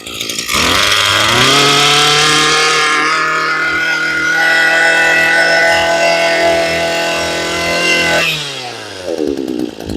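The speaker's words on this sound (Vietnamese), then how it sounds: "Máy nổ rất là mạnh nha bà con." Close and loud, a Maruyama grass trimmer's two-stroke engine revs up from idle into a sustained high, buzzing whine, holds for several seconds with slight wavering, then drops back down to a sputtering idle.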